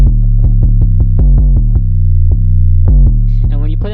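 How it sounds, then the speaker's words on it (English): Bouncy 808 bass pattern in a trap beat: loud, booming sub-bass hits in a quick syncopated rhythm with gliding pitch, plus a few higher synth notes near the end, no voices. "You want the 808s to be very bouncy"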